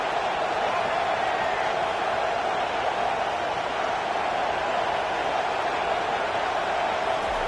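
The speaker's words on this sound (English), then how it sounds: "Defense has them pinned back, and listen to this crowd roar." A football stadium crowd roars in a steady, dense wall of noise that holds at the same level throughout, with no distinct breaks or individual voices standing out.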